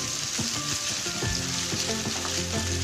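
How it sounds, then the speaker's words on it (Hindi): Minced meat (keema) fries in a pan while being stirred continuously, giving a dense sizzling crackle with scraping stir strokes throughout, and faint background music underneath. "इसको आपने कीमे को हिलाते जाना है ताकि इसमें गुठलियां ना बने कीमे की।"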